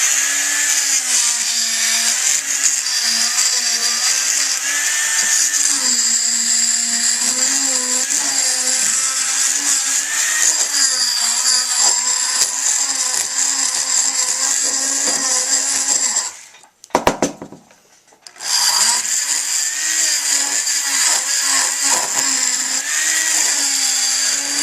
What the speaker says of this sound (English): I'm starting out with my my workhorse burr here,